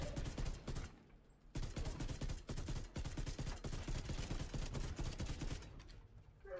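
Steady rapid fire from the Ravenous exotic rifle in The Division 2 video game, loud close bursts in a fast even rhythm with only a brief pause early on.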